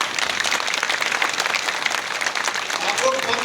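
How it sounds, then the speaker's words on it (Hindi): Loud, continuous clapping from a large crowd at a DXN mega event in Prayagraj, a dense, even roar of hands with no gaps, while the crowd's noise and some voices sit underneath. "तालियां होनी चाहिए जोरदार अपने लिए।"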